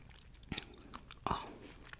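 Ambrosia salad with coconut being chewed close to the mic, two distinct wet bites followed by softer, quiet chewing sounds.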